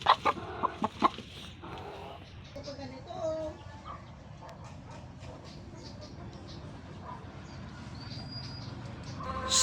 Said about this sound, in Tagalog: Dito po sa tatlo nating native chicken hen ay isa po yung nangingitlog na dito